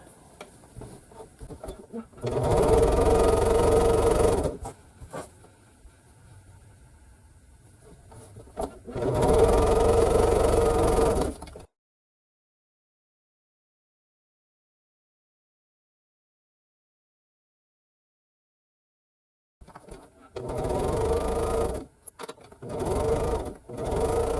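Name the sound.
sewing machine stitching quilt pieces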